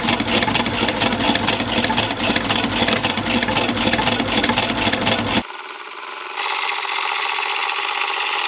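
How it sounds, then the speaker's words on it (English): A sewing machine runs a zigzag stitch along the hem of waxed canvas, a fast steady mechanical whirring with rapid needle clatter up close, then a brief quieter hum with an abrupt change in tone. "I'm just going to reinforce that with a zigzag stitch all the way down"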